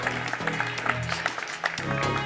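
Audience applause at a televised evening panel gathering, a steady wash of clapping that runs through the whole moment alongside a tonal musical backing.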